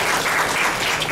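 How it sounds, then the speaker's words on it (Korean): Brief, steady applause rises from the audience at a Korean blockchain company press conference as the opening speaker is invited forward. It is a dense, even patter with no speech. "박수 부탁드립니다"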